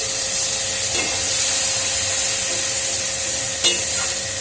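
Onions and spices sizzle steadily in a hot pan, a continuous close frying hiss with faint stirring scrapes, and no one speaks over it.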